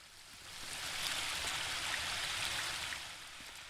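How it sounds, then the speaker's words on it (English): Flowing water in The Book of Unwritten Tales 2 video game, a steady broad rushing and trickling like a stream that swells and then eases, heard alone without talk. "That's definitely the sound of water."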